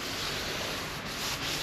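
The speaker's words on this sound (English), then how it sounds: "this roof, fiberglass roof, give it a bit of a sand down, get all that horrible glaze off it" Steady hand sanding across a fibreglass car roof on a classic Mini, rubbing off the glossy glaze; a continuous close, even abrasive hiss with slight surges, no talking.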